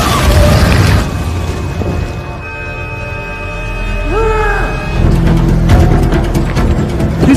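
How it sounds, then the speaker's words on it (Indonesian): A car blows up in a film scene: heavy rumbling booms and crashing debris, loud and close, with a tense musical tone and rising whooshes between blasts. "ternyata mobil yang telah dikendari oleh Gear telah meledak"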